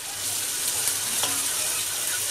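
Turmeric hits hot oil in a pan while making masoor biryani with chicken keema, giving a loud, steady sizzle and crackle close up, with a faint stirring scrape and no speech.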